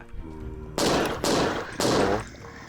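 Three bursts of rapid gunfire in a zombie survival video game, each lasting about half a second, loud and close with brief gaps between them and no talk.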